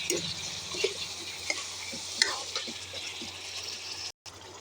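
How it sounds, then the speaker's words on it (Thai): Catfish pieces stir-fried with fragrant Thai red curry paste and kaffir lime leaves in a pan, giving a continuous soft sizzle with scraping stirs, fairly close. "หลังจากนั้นใส่ปลาดุกลงไปครับ ใส่ปลาดุกลงไปนะครับ ผัดให้เข้าเครื่องเลยนะครับ"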